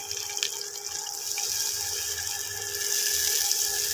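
Water poured into a pan of Bengali rohu fish curry with capsicum, a steady close splashing gush that runs continuously and grows slightly louder toward the end.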